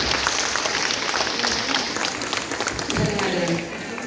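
Audience applause at a Sahachetana Natyalaya dance performance fills the room steadily, with voices mixed in under the dense clapping throughout.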